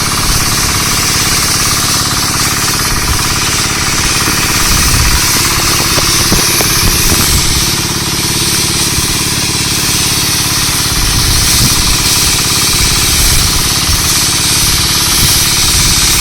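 An engine-powered sprayer roars steadily and loudly while spraying a custard apple orchard, a continuous dense mechanical drone with rough knocking pulses running through the whole stretch, with no talking.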